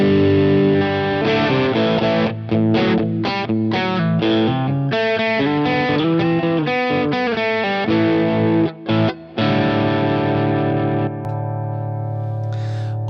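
An electric guitar played through a Boss MS3 pedalboard on a crunch setting rings out in distorted chords and riffs, loud and alone, ending on a sustained chord that fades.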